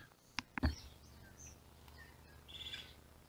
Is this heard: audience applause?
no